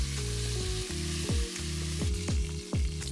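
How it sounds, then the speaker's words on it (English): Short ribs searing in a hot pan, a steady close sizzle with a few brief scraping turns as the meat is moved, no voices over it. "So we want to sear them and get a nice caramelization."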